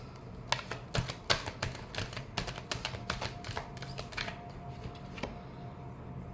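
Tarot cards being shuffled by hand during a reading, a run of quick papery riffles and taps close by, fairly soft and steady with no talk over it.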